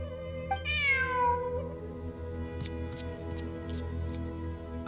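A cat meows once in Genshin Impact, a clear rising-then-falling cry near the start, followed by light ticking and chiming game sounds over a low steady background hum.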